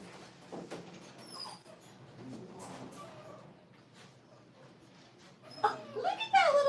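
A small dachshund whimpers and yips in a grooming spa, with faint high whines early and a louder cluster of whimpers near the end, alongside quiet human talk.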